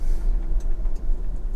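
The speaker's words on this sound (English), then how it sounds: "the sound of the Henney Kilowatt for a minute." A classic Henney Kilowatt electric car drives along with a steady low rumble of road and motor noise, continuous and fairly close, with faint higher whirs drifting over it.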